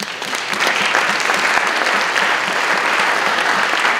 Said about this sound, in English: May I ask for you a warm applause for Mr. Sander van Leeuwen.